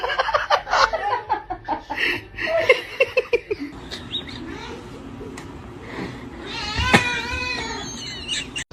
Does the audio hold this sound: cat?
yes